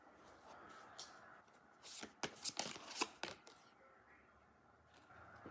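Tarot cards being shuffled by hand in a quiet room, a run of crisp riffling flutters clustered in the middle, close and fairly soft, with quieter handling before and after.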